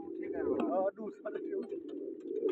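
Racing pigeons at a pigeon-flying contest coo and call close by, overlapping with steady crowd chatter and someone talking throughout.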